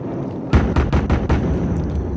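Five sharp handgun shots in Battlefield Hardline fire in quick succession, loud and close, followed by a lingering rumble of background noise.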